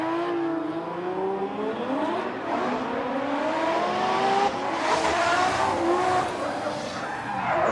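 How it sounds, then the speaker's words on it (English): Drift car engine howling with rising revs alongside tire squeal as it slides through a corner at Sportsland Sugo during a Formula Drift Japan event, loud and continuous throughout. "Russell having a little bit of a bobble, but does get into a drift at that 3-2-1"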